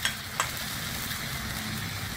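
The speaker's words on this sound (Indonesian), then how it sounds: "kemudian dipanaskan minyak di wajan dan bumbu yang sudah di blender tadi digoreng" Blended spice paste frying in hot oil in a wok, a steady close sizzle with a couple of quick utensil scrapes near the start.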